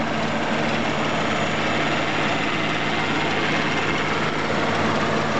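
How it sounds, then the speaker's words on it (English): A 1990 Chrysler Imperial idles steadily with its A/C compressor running, a constant low engine hum with a faint hiss on top. The sound stays even and close throughout, with no talking. "Compressor is running, and we've got a low side pressure at about 50 psi."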